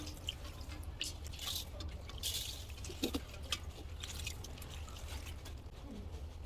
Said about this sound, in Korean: 남은 물은 위에다가 이렇게 뿌려주세요